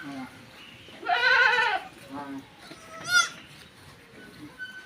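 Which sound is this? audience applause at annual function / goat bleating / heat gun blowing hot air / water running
goat bleating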